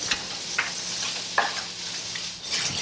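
A spoon scrapes and stirs through vegetables cooking in a hot gumbo roux, soft intermittent scrapes over a steady low sizzle, close and fairly quiet.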